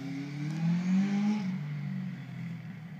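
A 1978 Honda CB750 motorcycle with a 4-into-1 exhaust, engine slightly cold, revs up through a rising, throaty swell, then settles back to a steady, rumbling idle nearby.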